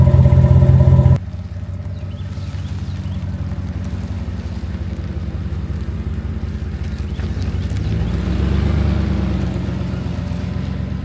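A pickup truck with a Hemi 5.7 engine drives along, heard from inside as a steady low engine drone with road rumble. The engine swells a little louder partway through, and nobody speaks.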